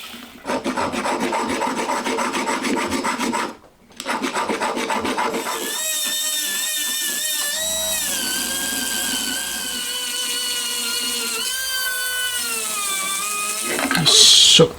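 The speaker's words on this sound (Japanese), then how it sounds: "あとは溶接のぬくもり跡を削ってきれいにしていきます。" A hand file scrapes away welding marks on a cast intake manifold for a Honda Monkey engine, with steady rasping strokes and a brief pause, then a whining grinding tone.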